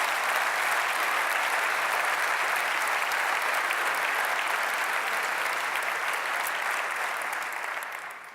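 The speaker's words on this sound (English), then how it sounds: "Deserves an applause." An audience at the 2018 European Heritage Awards ceremony gives dense, sustained applause that holds steady for several seconds, then tapers off at the end.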